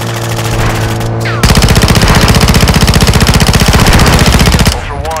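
Sustained automatic gunfire pours onto Boss Bullfrog's failing armored vehicle in Call of Duty: Modern Warfare II, a loud rapid rattle of rounds that runs steadily for several seconds before cutting off, with no talk over it.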